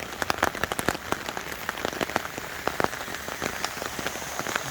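Heavy rain pouring onto a tent during solo camping, a dense close patter with sharp irregular drops striking the fabric, steady and loud throughout with no voices.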